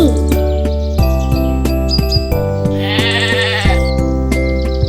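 A goat bleats over a steady musical backing with tinkling chimes, its wavering cry standing out clearly around the middle before the rhythmic music carries on.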